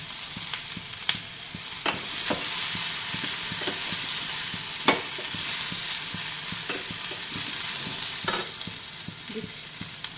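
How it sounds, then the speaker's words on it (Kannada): Mint leaves fry in hot oil with a steady, close sizzle, while a utensil stirs and scrapes through the pan in irregular clinks and scratches throughout, with no talking. "ಸ್ವಲ್ಪ ಎಣ್ಣೆ ಹಾಕ್ಕೊಬೇಕು, ಫ್ರೈ ಮಾಡ್ಕೋಬೇಕು. ಸ್ವಲ್ಪ ಪುದೀನ ಹಾಕ್ಕೊತಿದ್ದೀನಿ"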